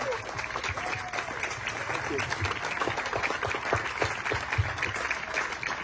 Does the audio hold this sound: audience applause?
yes